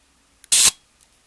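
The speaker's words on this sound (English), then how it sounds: "And we've made an exposure." Shutter release of a 1937 LeCoultre Compass 35mm camera, a faint click and then a short, sharp burst of mechanical noise with a softer tick after it, heard up close in a quiet room.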